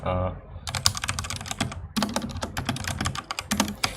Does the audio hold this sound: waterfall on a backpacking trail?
no